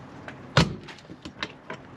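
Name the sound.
truck camper door closing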